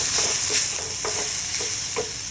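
Spoon stirring a mango curry in a pan with turmeric, salt and red chilli, a few scraping strokes over a steady sizzle, close and alone.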